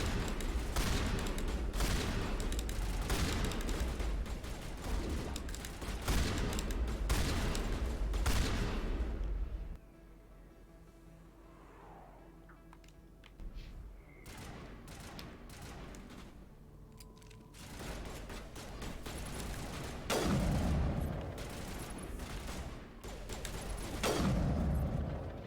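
Dense bursts of rapid video-game gunfire dominate, loud and continuous, then break off into a quieter stretch with scattered single shots before heavy volleys resume toward the end.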